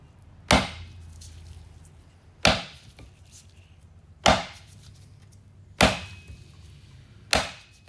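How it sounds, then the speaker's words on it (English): Five loud, sharp whacks land a second or two apart as a heavy knife strikes a coconut shell, each hit ringing briefly before quiet returns. "you can just crack coconuts and they split beautifully"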